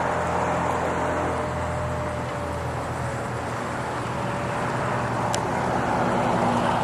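A 2000 Hyster 5,000 lb electric forklift with a triple mast and side shift drives around, giving a steady low hum and whine against a constant background wash, with no talking.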